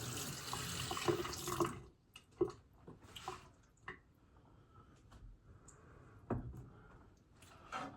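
Water running from a tap into a cooking pot during meal preparation: a steady rushing pour for about two seconds, then quieter kitchen clatter and a few clinks and drips.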